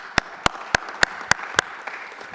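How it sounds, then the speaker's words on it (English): At an inter-parliamentary meeting in Belgium's House of Representatives, six crisp, evenly spaced hand claps ring out close by over soft background clapping from the audience, lasting only a couple of seconds. "Big round of applause for them as well"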